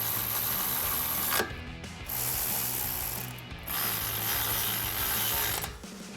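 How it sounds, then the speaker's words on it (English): Ratchet with a 12mm socket tightening a bolt on a Toyota Tacoma coil-over suspension install, rapid continuous clicking up close, broken by two brief pauses as the handle is reset. "Now we can tighten this down with our 12mm socket."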